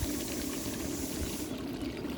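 Water boils with a soft, continuous bubbling and churning that stays faint and steady throughout.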